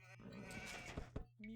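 A sheep bleats in the Age of Empires video game, a short nasal cry that rises near the end while a voice talks underneath.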